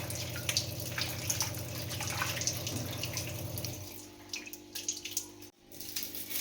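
Tap water runs into a sink while coriander leaves are washed for kebab, a steady splashing stream with a low hum that cuts off partway, followed by scattered drips and light handling noises.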